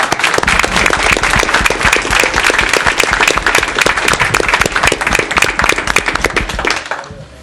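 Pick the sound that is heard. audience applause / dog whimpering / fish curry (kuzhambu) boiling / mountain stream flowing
audience applause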